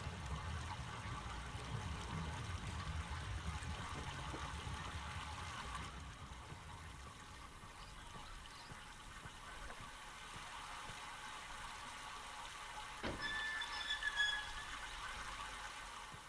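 Water runs through a pipe in the video game Myst, a quiet, steady trickling rush that continues throughout, with a brief high squeal near the end.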